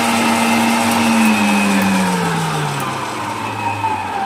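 A YUI M-120 multifunctional stand mixer runs at high speed, its motor giving a loud, steady whirring whine that slowly drops in pitch as it runs.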